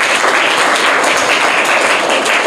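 Dense, steady applause from a group of schoolchildren at a quiz competition in Mumbai, rewarding a correct answer, sustained and loud up close with no break.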